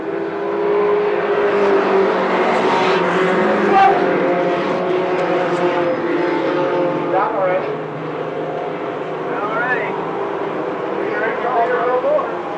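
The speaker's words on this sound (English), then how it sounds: "As we're off and racing, 23 Max Schaefer out in front" Race cars roaring around an oval track on the opening lap of a stock car race, loud continuous engine drone with rising and falling passes, under a commentator's steady play-by-play.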